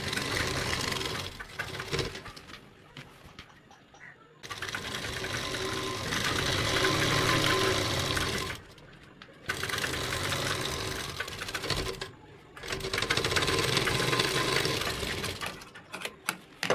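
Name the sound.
overlock sewing machine stitching an Afghani salwar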